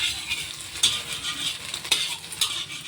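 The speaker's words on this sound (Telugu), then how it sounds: "1 tea spoon ginger garlic paste వేసేయాలండి. వేసి కొంచెం పచ్చివాసన పోయే వరకు వేయించుకోవాలండి." Ginger garlic paste frying with chopped eggs in a pan for street-style chicken fried rice, a steady close sizzle broken by a few sharp scrapes of a spatula stirring, with no voices.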